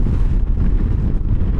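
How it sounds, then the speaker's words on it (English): Strong wind buffets the microphone while riding a Honda Goldwing motorcycle, a loud, continuous low roar with gusty fluctuations and no voices. "boy it's windy"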